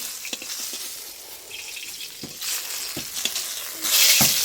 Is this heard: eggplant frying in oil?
yes